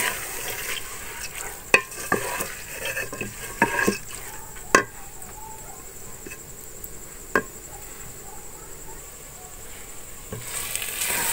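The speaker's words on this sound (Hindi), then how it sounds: "अब दाल को थोड़ी देर भून लेंगे।" Lentils frying in a pot, a steady sizzle broken by repeated scraping clicks of a spoon stirring, close and moderately loud, with no voices.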